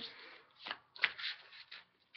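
Angel oracle cards are shuffled up close in a series of soft, papery riffles and slides, quiet and slightly uneven in rhythm, with no voice over them.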